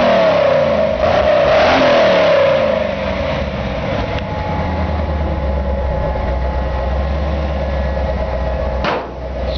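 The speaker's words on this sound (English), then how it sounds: "but I just want to let you hear the exhaust." 1956 Chevy shortbed truck engine revving through its exhaust, a loud, close, rumbling roar that swells early then settles into a steady throaty drone, with a brief dip near the end.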